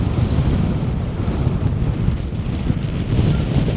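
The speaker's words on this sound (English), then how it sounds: "Right, it's very windy here." Strong wind buffets the microphone on an exposed, barren hillside by the sea, a steady low roaring rumble that fills the whole clip, with no talk.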